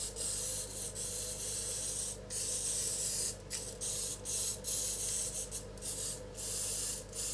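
A spray paint can hissing in a long continuous test burst with brief breaks, a steady broadband hiss that sputters slightly between pulses from a blocked cap, close and fairly loud.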